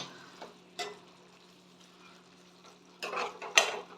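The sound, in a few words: tomato puree frying and being stirred in pan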